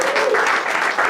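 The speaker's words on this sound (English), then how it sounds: "Round of applause for our" A crowd breaks into short, lively applause, dense and fairly close, lasting about a second.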